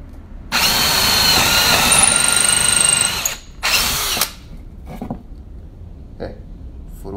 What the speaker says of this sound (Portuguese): Vou colocar no modo furadeira, viu?